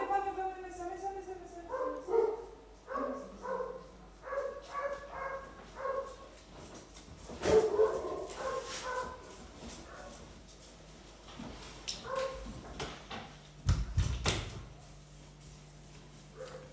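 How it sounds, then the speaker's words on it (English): A pet dog whimpers and yips in high, wavering whines, then gives a few sharp barks, close by, with a person talking softly around and between the sounds. "Wait, I'll just bring my dog in."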